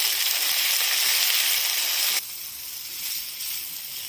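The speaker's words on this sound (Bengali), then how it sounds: "একটুখানি হালকা করে ভেজে নেব, আপেলের জলটা শুকিয়ে যাওয়া অবধি।" Apple pieces for chutney hiss and sizzle loudly in a hot pan, then the frying noise abruptly drops to a quieter, softer crackle.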